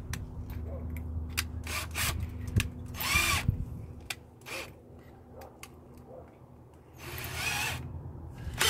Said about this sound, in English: So basically with a drill